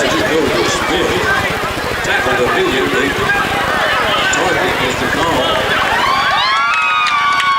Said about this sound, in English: the Bearcat fans come to their feet with a loud cheer